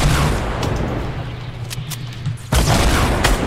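A rocket explodes during a Fortnite squad match: heavy booming blasts over a low rumble, with a sudden loud detonation near the end that stays sustained, and no voices.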